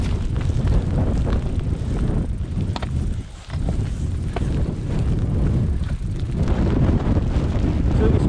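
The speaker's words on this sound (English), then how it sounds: "Bit windy and a bit rainy." Strong wind on a Peak District hill path buffets the microphone in a constant low rumble, gusting loudly throughout with a brief lull partway.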